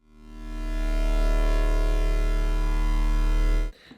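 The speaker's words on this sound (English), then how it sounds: "And then we also have this electrical hum" An electrical hum sound effect, made for a light in a camera edit, swells in within the first second, holds as a loud steady buzzing drone, then cuts off abruptly near the end.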